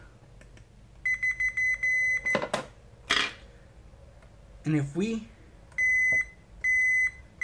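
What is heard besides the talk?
multimeter continuity test beep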